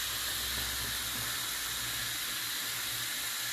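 A kitchen stove hisses steadily and faintly while chicken broth is being made, an even, unbroken rush of noise with no other sounds.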